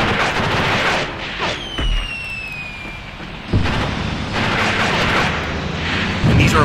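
Sustained machine-gun fire in the war game Graviteam Tactics with South African Defence Force forces, heard as a steady loud rumble of bursts with a few whistling streaks and sharp cracks layered over it.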